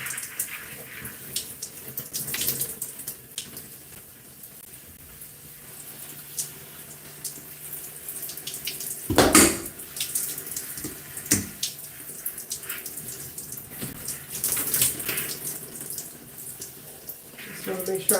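Water runs steadily from a shower or tap while conditioner is rinsed out of hair, a soft hiss with splashes and one louder gush partway through, and a voice speaks briefly over it.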